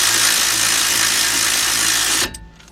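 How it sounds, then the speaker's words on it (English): Power tool running steadily on a brake caliper bolt of a 2013 Ford Explorer 3.5 during a front brake pad job, a loud continuous whir that cuts off sharply near the end, followed by faint clicks. "And let's tighten that up."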